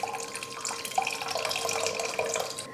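Tamarind extract is poured into cabbage sambar, a steady splashing trickle of liquid with small bubbling drips, fairly quiet and close, with no talking over it.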